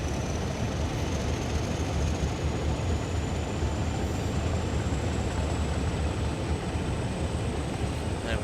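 A Class 50 diesel locomotive runs with a steady, dense rumbling drone and a faint high tone that rises slowly, continuous and unchanging throughout.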